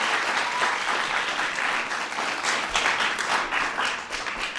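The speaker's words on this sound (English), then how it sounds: "So let's give them a big round of applause." Crowd of kids applauding soccer players at a Let's Move! event with the LA Galaxy, steady full clapping throughout, close and loud, with no talking.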